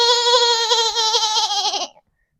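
A sheep bleats once in a long, wavering, nasal cry that holds steady and then cuts off abruptly, loud and alone with no talking.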